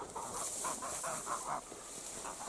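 Three-month-old domestic geese being herded outdoors toward the Kostrovy (Simakovsky) pond give faint, distant clucking and cackling calls in a short, loose series over steady outdoor background noise.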